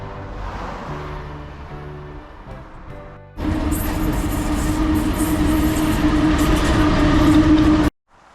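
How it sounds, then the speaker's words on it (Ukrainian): Train at Karpaty railway station in the Carpathians, first a quieter rumble with tonal hum, then a loud, steady roar of a passing or idling train from about three seconds on that cuts off abruptly near the end. "А тут сама станція залізнична."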